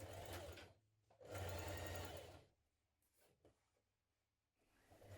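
A sewing machine stitches jean jacket side panels with a 1.5 centimetre seam in two loud, close bursts of rapid whirring, separated and followed by quiet handling of the fabric.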